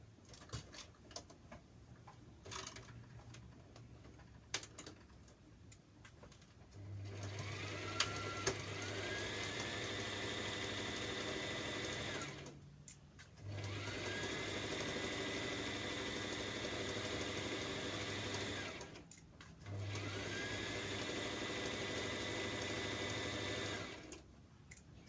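A sewing machine stitches fabric for a top, running in three sustained whirring bursts separated by short pauses, with quieter mechanical ticking before the first run.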